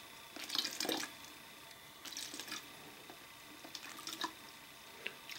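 Water trickles and drips from an MSR TrailShot pocket-sized water filter being squeezed slowly, soft intermittent splashes and drips close by in a quiet room.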